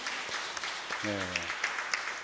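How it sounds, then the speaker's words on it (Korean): A church congregation applauds during a Sunday worship service, a dense wash of clapping that holds steady throughout while someone briefly speaks a single word in the middle. "하나님께 영광의 박수 드리겠습니다"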